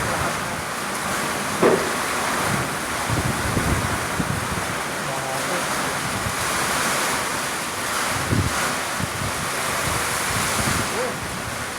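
Typhoon Tisoy makes landfall in Bicol: powerful wind buffets the microphone while heavy surf roars without a break, with gusts swelling and easing in a dense, loud wash.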